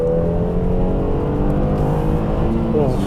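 A Mercedes-Benz W212 engine revs hard under full throttle in sport mode with a full load of passengers, its pitch climbing steadily as it accelerates, loud and close from inside the car, with a rising whine near the end.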